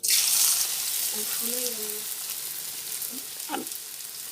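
Gobindobhog rice is stirred in a hot pan, giving a bright sizzle that starts strong and eases off, with spoon scrapes and a couple of sharper knocks toward the end and brief faint vocal sounds.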